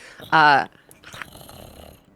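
A person imitates a dog's growl with their voice, one loud, rough, buzzing burst lasting about a third of a second, followed by softer breathy noise.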